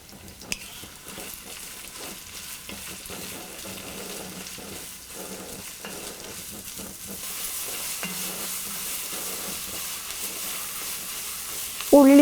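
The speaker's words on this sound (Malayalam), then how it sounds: "നമ്മൾ കട്ട് ചെയ്ത് വെച്ചിരിക്കുന്ന സവോള, ചെറിയ ഉള്ളി, ആവശ്യത്തിന് ഉപ്പുമിട്ട് വഴറ്റുക." Chopped onions and shallots salted and sautéing in a pan for duck mappas: a long, low, continuous sizzle with faint stirring scrapes, growing a little brighter toward the end, where a short metallic clatter sounds.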